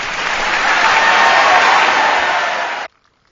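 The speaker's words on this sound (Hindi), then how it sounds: "ज़ोरदार ताड़ियूं थी वञनि हिकु दफ़ो ॿीहर ज़ोरदार ताड़ियूं" Strong, sustained audience applause at a music album launch event fills the space, a dense wash of many clapping hands that holds steady and then stops abruptly.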